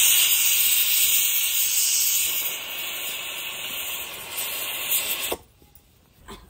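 A pressure cooker cooking dal lets off a loud, steady hiss of steam with a high whistle for several seconds, then cuts off abruptly into near quiet.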